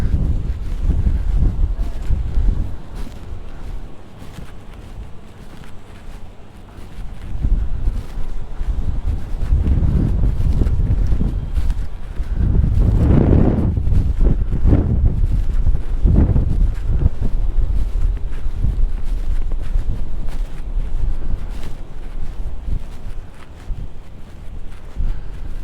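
Steady, heavy wind roars and buffets the microphone for the whole stretch, swelling into louder gusts around the middle.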